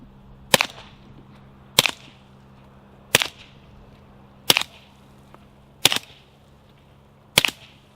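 Six evenly spaced suppressed shots from a Remington R1 .45 pistol fitted with a Gemtech GM45 silencer, each a sharp close crack with a short tail, over a low background hum.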